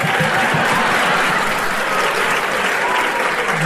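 Loud, dense audience applause at a stand-up comedy show, a continuous roar of clapping from a large crowd lasting the whole moment with no pauses.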